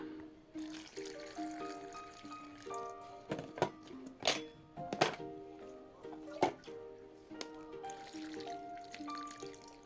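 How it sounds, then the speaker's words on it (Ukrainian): Salt brine pours and trickles in a steady stream over tomatoes, with a few sharper splashes and clinks midway, over faint background tones. "І заливаємо помідори."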